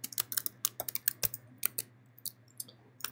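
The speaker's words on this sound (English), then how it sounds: "I'm going to type in this other information." A computer keyboard clacks under steady typing, a quick irregular run of sharp keystrokes close by that thins out toward the end, with quiet hum behind and no voices.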